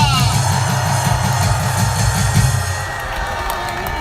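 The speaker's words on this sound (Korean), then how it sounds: "우리 전광 목사님께 큰 박수 한번 해주시기 바랍니다." A large crowd cheers and claps loudly and continuously, with a steady rhythmic pulse running underneath the noise.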